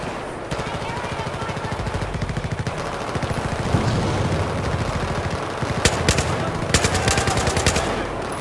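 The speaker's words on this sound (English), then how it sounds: "just fire your damn weapon" Sustained Battlefield 4 automatic gunfire in the Singapore airfield campaign level, rapid bursts of shots rattling almost continuously with heavier cracks and blasts toward the end, loud and close.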